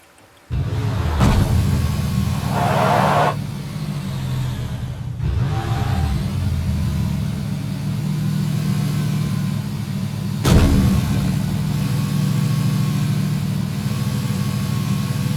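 A vehicle engine drives in PUBG during a squad match, a steady mid-pitched drone that holds close and loud after a sudden start, with brief revving swells and a couple of sharp bumps along the way.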